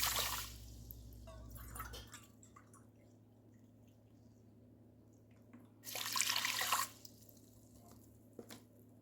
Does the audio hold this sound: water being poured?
yes